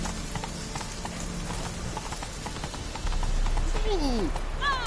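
Roach the horse gallops in The Witcher 3 video game, a steady loud clip-clop of hooves with a rider's voice urging it on partway through.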